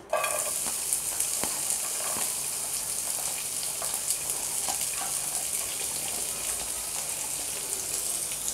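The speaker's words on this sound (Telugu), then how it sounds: "ఆయిల్ వేసిన తర్వాత ఇందులోకి ముందుగా కట్ చేసి పెట్టుకున్న ఉల్లిపాయ ముక్కలు యాడ్ చేయాలి" Chopped onions sizzle and crackle steadily in hot oil in a pan while egg fried noodles are being made. The frying is loud, close and continuous, with no talking.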